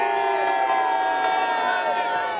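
Royal fans lining the Mall cheer in a dense, steady crowd roar, with shouts and whoops layered over a continuous wash of voices that stays loud and even throughout.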